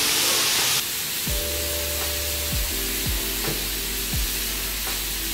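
Chopped carne asada beef sizzles in olive oil on a 36-inch Blackstone flat-top griddle, a bright steady hiss with scraping spatula strokes repeating every second or so, no voices.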